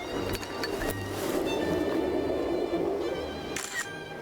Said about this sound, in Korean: 덕분에 셔터 소리가 끊이질 않았습니다.